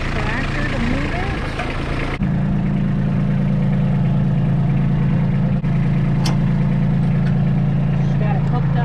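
Kubota B2601 compact tractor engine running at a steady idle, a constant low diesel rumble that fills the whole stretch, close by with a brief shift in tone partway through.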